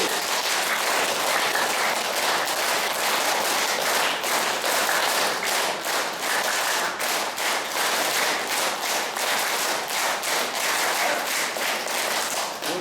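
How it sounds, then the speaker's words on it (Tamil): A group at a naturopathy camp in Madurai claps hands together as acupressure clap therapy, producing continuous loud dense clapping with steady rhythmic pulses and no talk over it. "கைதட்டு மருத்துவம் அடிக்கலாமா"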